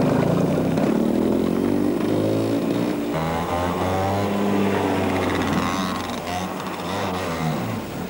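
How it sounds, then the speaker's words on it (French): A go-kart with a 100 cc four-stroke 17 hp engine on a Hutless chassis drives past close by, its engine droning loudly and shifting pitch as it accelerates, with no talk. "Les pros du volant n'auront pas manqué d'essayer leur kart, monté sur châssis Hutless, équipé de moteurs 100 cm3, 4 temps de 17 chevaux"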